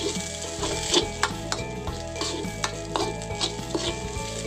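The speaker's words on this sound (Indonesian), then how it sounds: "Aduk-aduk sebentar sampai daun bawangnya layu." Corn fried rice with scallions stirred in a pan, a steady loud sizzle of frying under repeated scraping and clinking of a utensil against the pan, close and continuous with no voices.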